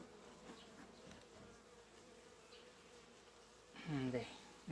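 Bees buzz faintly and continuously during a September hive inspection, a low steady drone with one louder, closer burst near the end as an insect passes the microphone.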